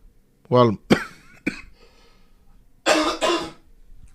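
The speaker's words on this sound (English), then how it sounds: "sorry about the cough." A few sharp coughs in short bursts, with a voice talking briefly between them, close and fairly loud.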